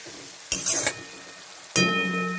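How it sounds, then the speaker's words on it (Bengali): Onions frying in a pan for a chicken dish, a soft steady sizzle broken by two louder bursts of stirring or crackling, close by with no talk. "ততক্ষণ পেঁয়াজটা ভাজা হোক"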